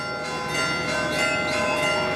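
Evening church bells in Sorrento peal repeatedly, their ringing overtones blending into a continuous shimmer with regular strikes, moderately loud and heard from some distance.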